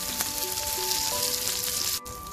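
Mudskipper fish frying crisp in hot oil in an Agri-style home kitchen, giving a steady, close sizzle with fine crackling throughout, easing off briefly near the end.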